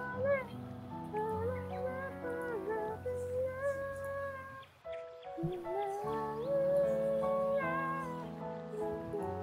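A person imitating a cat, drawn-out meowing vocal tones rising and falling over nearly ten seconds, close and fairly loud, during a Monster Hunter Rise multiplayer session.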